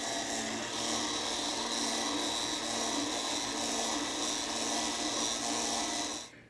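A Wolfgang Puck spiralizer cuts zucchini with a steady, continuous rasping whir that runs for several seconds at close range and then stops abruptly, with no voices.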